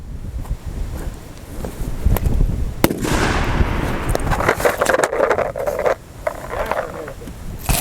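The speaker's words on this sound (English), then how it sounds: "I'm gonna take 12 shots here" Rifle shots on an outdoor target range shooting F-Class (FTR) targets, several sharp cracks over steady wind noise and rustling.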